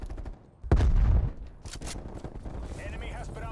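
Gunfire in a video game sniper fight: one loud, booming shot rings out and decays, followed by quieter game noise and a couple of sharper cracks, with players talking over it.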